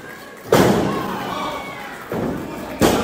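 A wrestler is driven down onto the ring mat at a DCW Overdrive wrestling show, a loud heavy slam followed by a second thud, under a commentator's talk and crowd noise.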